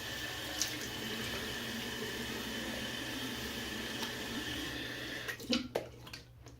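Running tap water pours steadily while soap is rinsed off, a faint, even splash that breaks into a few louder splashes and drips near the end.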